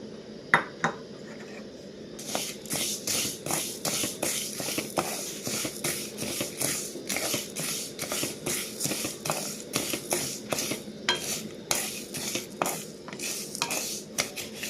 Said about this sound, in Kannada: ಮೆಂತ್ಯನೂ ಬಿಸ್ಕಿಟ್ ಕಲರ್ ಡಾರ್ಕ್ ಆಗಬೇಕು ರೀ, ಅಲ್ಲಿವರೆಗೆ ನಾವನ್ನ ಹುರ್ಕೊಳ್ಳೋಣ್ರಿ